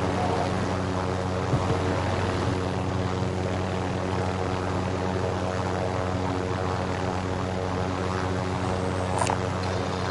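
A helicopter in the video game Call of Duty Warzone gives off a steady, droning engine and rotor rumble that holds at an even level throughout, with no talk over it.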